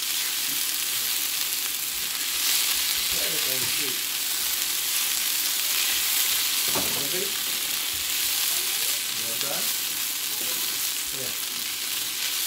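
Green peppers and onions sautéing in a pan for jerk chicken, a steady loud sizzle with a voice speaking intermittently over it.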